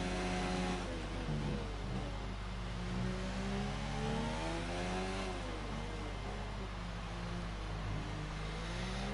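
An F1 car engine in the F1 2019 video game, racing at the Mexico GP, screams steadily at high revs and climbs through the gears flat out. It is a loud, continuous whine with no talking.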